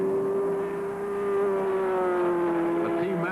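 Race cars at the 1966 12 Hours of Sebring, Gurney's car chasing Parks' Ferrari, make a steady sustained engine drone that holds one pitch and dips slightly near the end.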